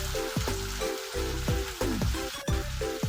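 Chopped tomatoes fry in a pan for a village-style chicken biryani, crackling and sizzling steadily with bursts of spattering as the pieces are stirred, close and alone without talk.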